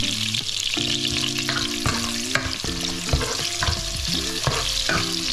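Onions sautéing in a pan for bulalo beef soup in a home kitchen, a loud continuous sizzle and crackle with repeated stirring scrapes, while a faint melody plays underneath and no one speaks.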